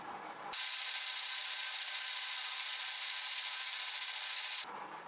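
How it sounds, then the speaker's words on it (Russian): A steady, high-pitched grinding whine holds for about four seconds at an even level as an ordinary R6-M5 drill bit bores through a band saw blade, with low speed and heavy pressure; quieter workshop noise comes before and after. "Сверлится обычным сверлом R6-M5."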